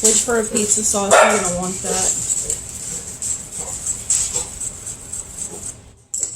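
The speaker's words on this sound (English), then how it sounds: "I'm not sure what my dogs are barking at." Dogs bark intermittently in the background while someone talks steadily in the foreground.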